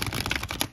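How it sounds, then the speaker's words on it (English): A deck of tarot cards is shuffled close up, giving a quick burst of crisp riffling clicks and flutters that lasts under a second. "I will shuffle this deck"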